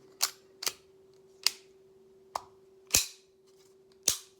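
A SIG P320 X pistol's action being cycled by hand, producing six sharp, close mechanical clacks at uneven intervals over a steady faint hum, with no talk.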